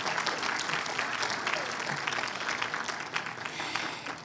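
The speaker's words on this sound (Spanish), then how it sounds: "Así que denle un aplauso fuerte." A church audience applauds loudly for the young musicians, with busy overlapping claps, a few louder accents and a faint murmur of voices under the clapping.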